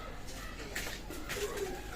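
Pigeons at a pigeon seller's loft coo softly and continuously under steady background noise, with faint low murmuring calls.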